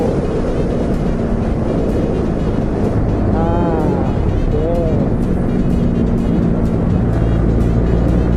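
A Honda CB150R motorcycle ridden on an open road through curves at dusk, its engine droning under loud, constant wind rush, with revs rising and falling while shifting down a gear.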